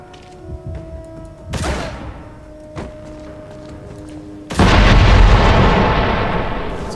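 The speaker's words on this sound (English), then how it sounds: "It's a pretty cool explosion." Shot barrels explode in the video game Escape from Butcher Bay: a sharp blast at first, then a much bigger boom whose dense, rushing debris roar carries on to the end, with no one talking.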